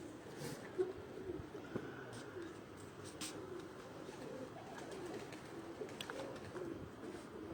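Soft, low cooing from two pigeons landed on a rooftop in Amra Kalan, Dinga murmurs in the background amid faint outdoor ambience, with a few light clicks and rustles.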